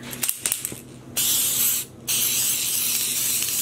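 Wilton Color Mist silver metallic food spray hisses from the can onto yarn in two sustained bursts with a short pause between, close and loud, after a few light handling clicks.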